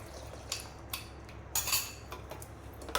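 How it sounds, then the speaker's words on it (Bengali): A spoon scrapes and clinks against a pot as custard powder is stirred into hot milk, giving a few quiet, irregular metallic taps and scrapes in a still room. "এটাকে নাড়বো ঘন হওয়া পর্যন্ত"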